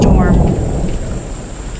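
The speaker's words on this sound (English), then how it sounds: "That must have been a loud crack of lightning and thunder." A powerful storm at Findley State Park, Ohio, brings a loud crack of thunder that rolls and fades under steady heavy rain.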